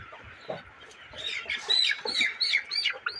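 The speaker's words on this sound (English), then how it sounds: "Now, this is a young broiler." Young broiler chicken clucking and chirping close by, a run of short bright calls that grow busier and louder over a few seconds, no voices.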